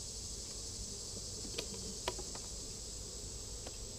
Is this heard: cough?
no